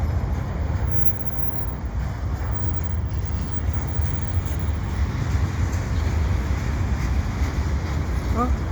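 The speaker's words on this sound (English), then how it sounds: "An intermodal train." CP intermodal freight train passing in winter, a steady close rumble of rolling cars with a low roar underneath, with no voices.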